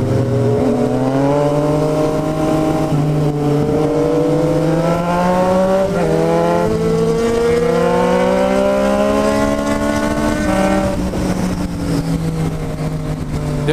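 A Yamaha MT-09 motorcycle engine revs up through several gears, even pulling from low revs in fifth, pitch climbing repeatedly in loud rising sweeps, close and continuous.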